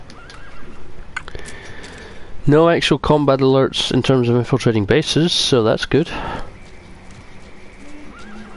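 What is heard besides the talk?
horse whinnying and hooves in video game Metal Gear Solid V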